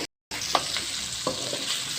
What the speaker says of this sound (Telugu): ఎర్రగా ఫ్రై చేయాలి.